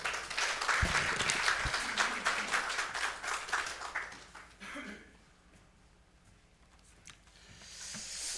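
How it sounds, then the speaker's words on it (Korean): A church congregation applauds to welcome a pastor to the pulpit at a broadcast worship service, a lively wash of many clapping hands that gradually thins and dies away into near-silence, then a faint rustle. "환영의 박수로 인사하겠습니다."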